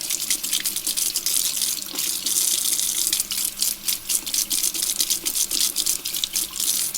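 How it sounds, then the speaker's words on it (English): Tap water runs steadily into a sink as small metal parts from a 1920s Akron 103 lantern are rinsed of citric acid. The flow is loud and close, with splashing that shifts as the parts move under the stream. No one speaks. "Now I'm going to rinse these, the smaller parts"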